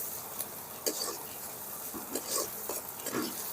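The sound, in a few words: onions being stirred and fried in a pan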